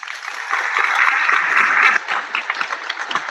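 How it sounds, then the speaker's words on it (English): A live audience at a Job Corps apprenticeship program event breaks into sustained, dense applause, a steady wash of many hands clapping that swells slightly before easing off. "So Mr. Boone, give him a round of applause."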